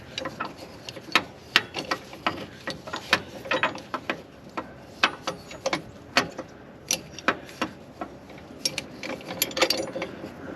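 A wrench ratchets a bolt loose from a tiller, giving a long run of sharp, evenly spaced metallic clicks close by, with no talk.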